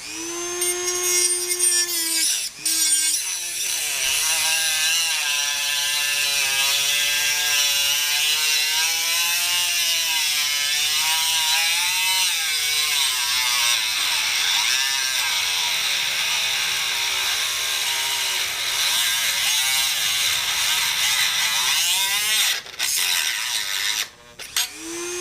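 A cutoff disc slices into a bracket on a Suzuki Boulevard C50 bobber, a sustained high, harmonic whine that wavers in pitch as the cut loads and eases, close and loud, with a few brief breaks near the end.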